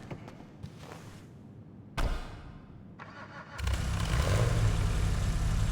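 A car in a video game starts up with an odd, irregular startup: a few sputtering cranks and a sharp catch, then the engine settles into a loud, steady idle.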